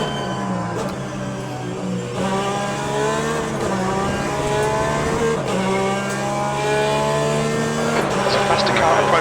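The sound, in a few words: race car approaching, from video game Le Mans Ultimate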